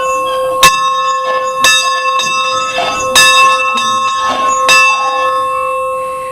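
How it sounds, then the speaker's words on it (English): A brass bell on a 1912 Baldwin steam locomotive rings out in clear, resonant strokes roughly once a second, each strike leaving a long ringing tail that overlaps the next. "let's take a look at the bell here"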